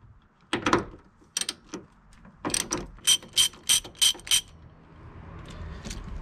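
Ratchet working bolts loose on a Mazda Miata suspension bushing: several quick bursts of close, sharp pawl clicking in short runs, with a couple of clacks and pauses between them.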